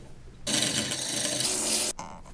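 A wood lathe turns a lamp base while a tool cleans up its edge, giving a loud, steady scraping rasp for about a second and a half that stops abruptly, followed by a quieter lingering hum.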